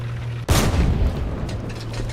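A tank cannon fires at a Panzer IV in War Thunder: one loud, close, deep boom that rolls out over a steady low engine hum.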